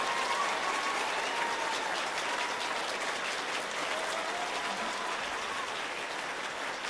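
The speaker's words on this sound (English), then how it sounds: "Give him another big round of applause" Audience at a children's chorus concert applauding the student intern, steady dense clapping from a large crowd, loud and sustained throughout without pause.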